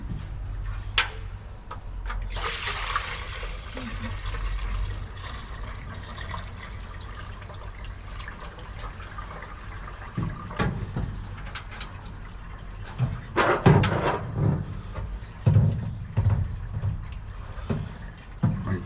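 Coolant bubbling and gurgling as air is bled from the cooling system of a 1968 G20 van, a watery burble that comes and goes in irregular surges, louder in the second half with brief sharper bursts.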